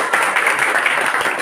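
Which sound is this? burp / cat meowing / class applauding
class applauding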